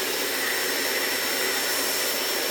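A 1990s Panasonic MC-E53 upright vacuum cleaner runs steadily, giving a loud, continuous airy roar with a faint high whine throughout and no talking.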